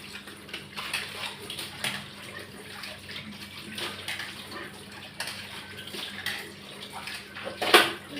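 Kitchen utensils are washed under running water in a non-modular kitchen, with a steady splash and trickle throughout and occasional light clinks of pots and dishes, ending in a brief sharper clatter.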